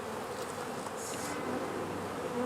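Honey bees hum steadily at an open hive, a dense, even buzz with individual bees drifting close past the microphone.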